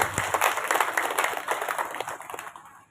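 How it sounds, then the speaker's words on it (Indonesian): An audience at an Indonesian awards event breaks into a dense patter of hand clapping that is moderately loud and slowly thins out over about three seconds, with faint voices mixed in. "Tepuk tangan."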